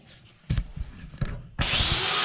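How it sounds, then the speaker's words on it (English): Welding around a hole in the frame rail of a wrecked 1970 AAR 'Cuda starts suddenly as a harsh, crackling hiss after a few knocks and scrapes, and holds steady to the end. "Weld all the way around the hole."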